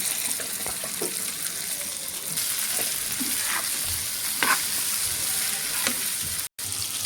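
Cut okra frying with salt, turmeric and cumin powder in a pan, a steady loud sizzle with occasional stirring scrapes and a brief break near the end.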